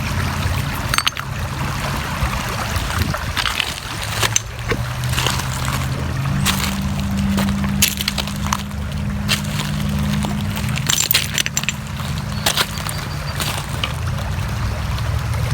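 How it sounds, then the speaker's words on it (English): Shaw Creek runs over rocks in a steady close babble of water, continuous and fairly loud with small splashes and gurgles, and no talking. "Beautiful water."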